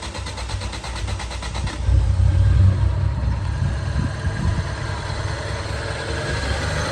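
A Volkswagen Jetta Mk3 with a carburettor system and an aftermarket exhaust cranks briefly, catches and settles into a low, steady idle, recorded up close with no talking.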